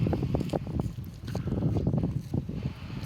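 Wind gusts by a clear, flowing river in Xaisomboun province, Laos, during the dry season, producing a continuous, fairly loud rumbling buffet against the microphone with no talking.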